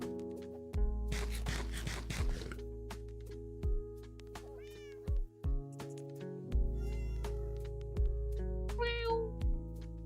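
Cat meows from the Minecraft video game, several short tonal calls spread across the span over steady game music, with one longer noisy burst near the start.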